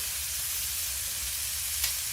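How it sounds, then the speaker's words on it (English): Moose meat sizzles steadily in a hot pan on a wood stove, a constant crackling hiss with no talking, fairly quiet and close. "It's got a good sizzle to it."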